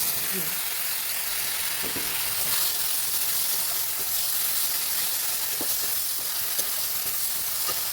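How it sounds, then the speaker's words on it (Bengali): Onion and ground spice paste fry in a wok, a soft continuous sizzle and steamy hiss with a few faint stirring scrapes and taps, fairly quiet and even. "তো এখানে আমি কড়ার মধ্যে পেঁয়াজ দিয়ে দিয়েছি পেঁয়াজটা লাল লাল করে ভেজে নিচ্ছি"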